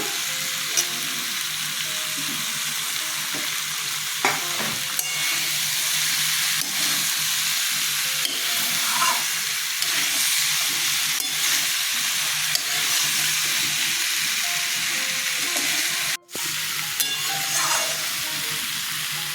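Potatoes for an elephant foot yam curry fry in a pan with a steady, close sizzle and occasional stirring scrapes throughout, with no talking.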